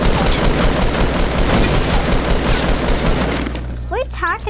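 Gunfire in Fortnite, including sniper fire, crackles as a dense, loud barrage of shots that fades out near the end, followed by a brief vocal sound.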